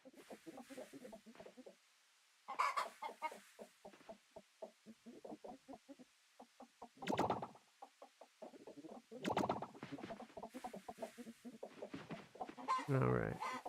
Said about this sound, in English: I think all the chickens are together.